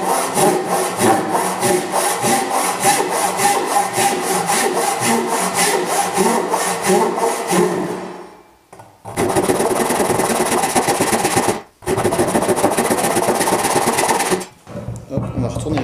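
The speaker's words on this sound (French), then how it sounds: "Il faut essayer de scier avec toute la longueur de la lame." A hand saw drives long full-length strokes through wood, a loud steady rasping rhythm that breaks off briefly and then resumes, with a voice speaking at times.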